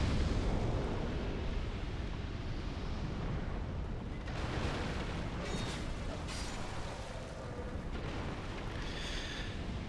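Explosion in the video game Dark Souls 2, a sustained roaring, rumbling blast with crackling fire that stays loud throughout, with bursts of brighter crackle partway through.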